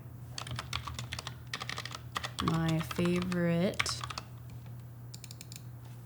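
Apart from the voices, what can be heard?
clicking and typing on a computer keyboard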